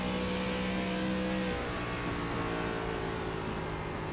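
Race car engine from the iRacing NASCAR ARCA Series sim, a steady loud high-revving roar with a pitch shift partway through, heard alone.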